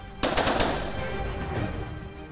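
Shooters waiting in ambush in a parking lot open fire, a rapid burst of loud, close gunshots followed by a ringing, echoing tail that slowly fades.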